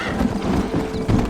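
A horse gallops in the Red Dead Redemption remastered game, its rapid clip-clop hoofbeats rolling in a steady, close rhythm over a short stretch with a dense backdrop.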